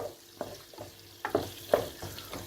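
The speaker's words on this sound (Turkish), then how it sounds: "güzelce evet harmanladım karıştırıyorum" Food mixed with pepper paste is stirred in a pan for bulgur pilaf, with several close, distinct scraping strokes and soft knocks rising over a light background sizzle.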